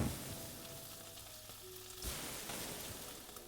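Steak frying in the Chef Life restaurant simulator video game, a continuous mid-level sizzle with a slight swell near the middle, heard alone without any voices.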